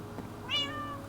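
A cat in the Minecraft video game lets out a single rising and falling meow, clear and close, over a low steady background hum.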